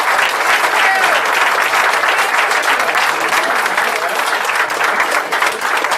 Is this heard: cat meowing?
no